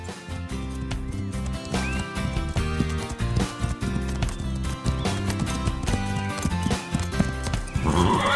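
Horses clip-clopping with steady hoof beats and whinnying, loud and close, with music playing throughout.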